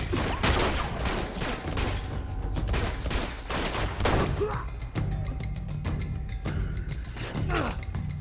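A rapid volley of sharp shots from a Magnum in Uncharted 2, loud and close, repeating in a quick uneven rhythm throughout with faint mechanical clicks between reports.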